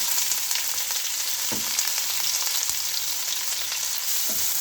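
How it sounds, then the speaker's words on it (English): Onions fry in a pan for chicken pilau, a steady close sizzle with occasional soft knocks of stirring, and no talking. "we're going to spend at least 10 minutes browning the onions"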